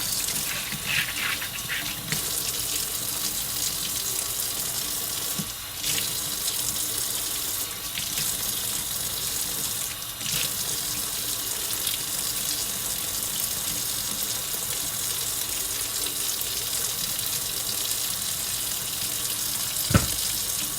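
Water runs from a kitchen sink tap in a steady, close splashing stream that lasts throughout. A few faint knocks sound under it, and one brief sharp clack comes near the end.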